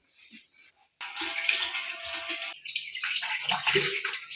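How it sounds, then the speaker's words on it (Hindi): Small chira fish being washed by hand under running water, with a steady rush and splashing that starts after a brief quiet moment and continues close and fairly loud. "अच्छे से वॉश कर लेते हैं।"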